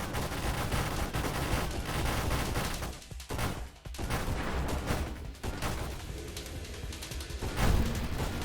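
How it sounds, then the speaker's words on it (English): Rapid machine gun fire in the space shooter game Nova Drift rattles in dense, continuous bursts. It has a brief break midway, then resumes loud and busy with crashing impacts mixed in. "I'll go full machine gun here for a second."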